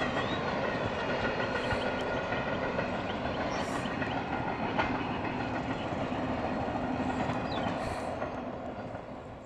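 A train rolls past with a continuous rumbling roar and rhythmic clatter of wheels on rails, loud throughout and fading slightly at the end.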